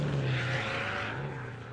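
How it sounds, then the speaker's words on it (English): A steady engine roar like a race car or motorcycle rises and falls slightly, with a strong low hum under a broad rushing noise. The sound is continuous and fairly close, with no speech over it. "sounds like I'm in a race car or something"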